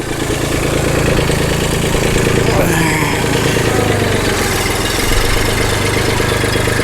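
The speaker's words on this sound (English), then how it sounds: "I always take it easy with my tractor when it's cold like this" Cold tractor engine idling up close, a loud constant rough chug that runs unbroken throughout, with a person talking over it.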